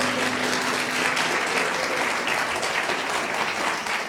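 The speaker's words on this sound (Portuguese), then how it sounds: "Por favor, batam palmas." A hall audience at a Brazilian federal court judiciary event claps steadily and densely for the whole stretch, a sustained, even wash of applause with no one speaking over it.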